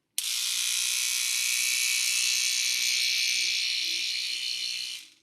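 An electric toothbrush buzzes loudly and close for about five seconds, a steady high-pitched whine that starts abruptly and tapers off at the end, with a faint low hum in the background.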